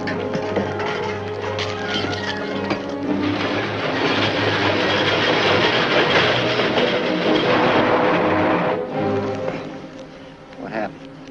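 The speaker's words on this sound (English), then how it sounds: "Sounds like a train now." A train rumbles past steadily and loudly for several seconds near a river trestle in a 1950s logging drama, with a clattering roar that fades slightly at the end, people speaking over it.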